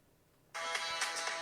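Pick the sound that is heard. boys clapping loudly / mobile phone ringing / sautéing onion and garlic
mobile phone ringing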